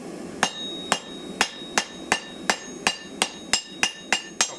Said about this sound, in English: Now we're just going to cut this section off here. And we'll do that on the hot cut.